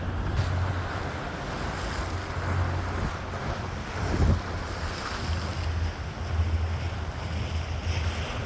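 Waves and wind surge along the waterfront while the Norwegian Encore cruise ship comes in slowly to dock, a steady rushing wash with gusty microphone buffeting and a few low swells.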